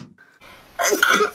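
A cute sneeze from one person, with a faint squeaky intake and a short pause, then a soft, high-pitched burst, close and fairly quiet.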